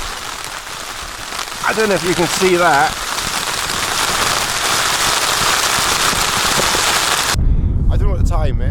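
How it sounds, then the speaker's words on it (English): Hail drums hard and steady on a tarp at close range, a dense continuous rattle, with someone talking briefly partway through. "The hail now."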